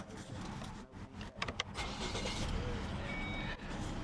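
A car's engine cranks and catches before the driver backs out, a steady mid-range idle rumbling close by with brief clicks as it starts, then settling into an even hum.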